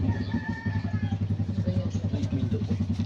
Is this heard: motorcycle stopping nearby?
yes